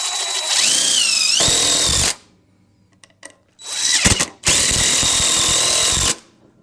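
Power drill driving long screws into plywood on a boat being shrink wrapped, two loud whining runs with the motor pitch rising and settling, separated by a short quiet gap with faint clicks.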